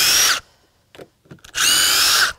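Loud power drill backing out the last screws from a patio deck during renovation demolition, two strong bursts of whining motor separated by a brief pause with faint knocks.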